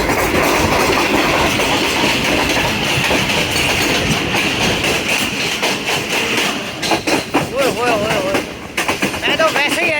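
Rail car carrying passengers on its inaugural run over the tracks, rumbling and clattering steadily and close up, with a rhythmic clickety-clack of wheels on rail joints and voices talking over it.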